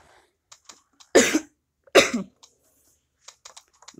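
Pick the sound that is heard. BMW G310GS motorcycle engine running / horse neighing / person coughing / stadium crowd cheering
person coughing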